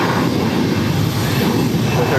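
A jet airplane on its takeoff roll from runway 22 right at Boston Logan, a loud, steady broadband engine roar held close throughout without a break.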